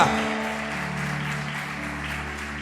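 Sustained applause from a church congregation, a dense wash of clapping that holds steady over a low hum of background music.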